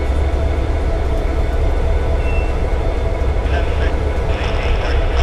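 A Norfolk Southern train led by an SD40-2 locomotive rolls past at Coffey's Cliff, a loud, sustained low rumble of engine and wheels with faint metallic squeals toward the end.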